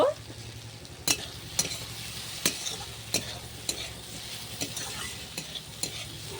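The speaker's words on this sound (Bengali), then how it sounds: "ভালো করে মশলাটা কষিয়ে নিয়েছি" Masala with chopped cashews fries in a pan for paneer butter masala, a steady close sizzle broken by about eight sharp spatula strikes at a slow, uneven rhythm, with no talking.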